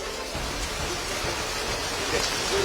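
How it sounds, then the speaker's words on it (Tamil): Heavy rain and strong cyclone winds lash Marakkanam during landfall, a dense, steady roar of broadband noise that stays loud and unbroken throughout, with gusts swelling slightly toward the end. "இந்த காற்றின் வேகம், மழையின் வேகம் சுமார் 2 மணி நேரத்துக்கு மேலாக நீடித்துக் கொண்டிருக்கிறது"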